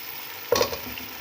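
Potatoes and tomatoes frying in oil for aloo matar pulao, stirred once with a spoon: a brief close scrape and burst of sizzle, then a steady soft frying hiss, no voices.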